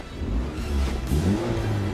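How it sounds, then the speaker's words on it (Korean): A test car's engine running after being started, a steady close mechanical rumble with a slight rising rev, loud and continuous with no voices. "엔진을 가동시켰으니 본격적으로 출발해보죠."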